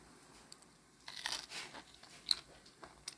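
Crisp pan-fried squash, dipped in soy sauce, bitten and chewed close up, giving a few soft crunches and crackles with quiet pauses between bites and no talking.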